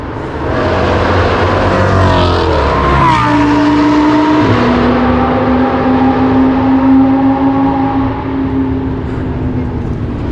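A Lamborghini Performante's exhaust roars at full throttle on India's Formula One track, engine pitch climbing through gears with loud, raspy revving that holds high and close for the whole stretch.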